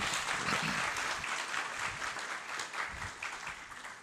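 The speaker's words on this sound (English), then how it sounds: "I think he deserves a bigger hand clap than that." A conference audience claps in a steady burst of applause lasting several seconds. It comes across as fairly faint and distant, like a room full of hands heard from afar.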